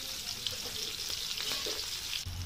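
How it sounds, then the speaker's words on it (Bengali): Sliced onions and chilies fry in hot oil in a wok, giving a steady crackling sizzle with faint stirring scrapes, close and continuous, without any talking. "কড়াইতে তেল দিলাম, তেলটা গরম হলে পরে পেঁয়াজ আর লঙ্কা সেগুলো দিয়ে দিলাম।"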